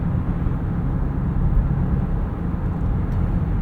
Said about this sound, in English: I just don't like the way this engine sounds. It sounds gruff and just kind of low budget